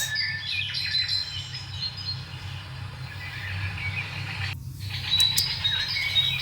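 Birds chirp in short, thin, high calls scattered over a steady low outdoor rumble, fairly close but not loud, with a brief break before the chirping resumes.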